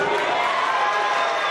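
A large crowd at a Mosconi Cup pool match roars and cheers in a steady, loud wash of voices that lasts the whole short moment.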